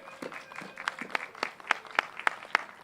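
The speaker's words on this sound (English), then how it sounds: "Could everybody give these folks a round of applause once again?" Scattered audience applause at an awards event, a modest number of hands giving sharp, distinct claps that grow slightly denser over a few seconds, fairly close and alone without talk.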